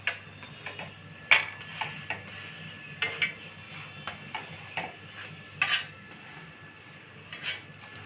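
Egg parathas cooking in a pan, with scattered scraping and clinking of a utensil against the pan over a faint low sizzle, intermittent knocks spread across the stretch.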